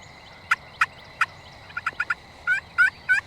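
A wild turkey gobbling near a pasture: a string of sharp, rattling gobbles, first spaced out and then in quicker bursts, heard clearly at moderate distance with no voices.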